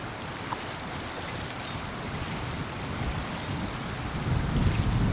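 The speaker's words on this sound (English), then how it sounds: "it's just gotten real windy from this direction" Wind gusts through Queenstown Gardens after an overnight snowfall, making a continuous low rumbling roar that strengthens toward the end, close and buffeting like it is pressing against the microphone, with no speech.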